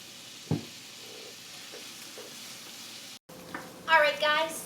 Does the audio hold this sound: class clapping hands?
no